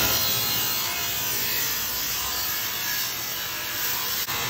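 Everette 3HP 220-volt single-phase abrasive saw with a circular blade cutting stacked 2-inch turning vanes, giving a loud, continuous high-pitched grinding whine that stays close and unbroken throughout.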